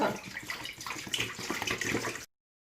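Milk pours steadily into a large cooking pot on a gas stove, a close, continuous splashing and gushing stream that stops abruptly.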